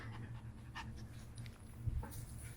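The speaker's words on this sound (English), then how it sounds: "This dog demands a lap." Close, steady panting from a dog indoors, rapid breaths running evenly throughout with a brief louder snuffle near the end, no voices.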